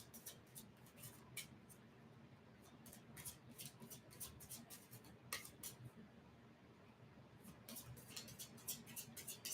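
A tarot card deck is shuffled during a live baking and tarot session, giving soft, quiet riffling and flicking bursts in an irregular rhythm, close by with no talk.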